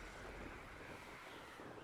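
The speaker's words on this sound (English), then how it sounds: "It's so windy." Steady, broad rushing wind roars continuously, with no pauses or distinct events, like a strong gale sweeping past, in the video game Hogwarts Legacy.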